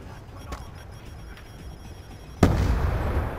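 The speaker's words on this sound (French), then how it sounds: "ils sont quand même en train d'envoyer des grenades pour nous" In Call of Duty Black Ops 2 multiplayer, a grenade goes off as a single sharp blast late in the clip, after a few fainter distant pops, and the blast leaves a lingering rumble.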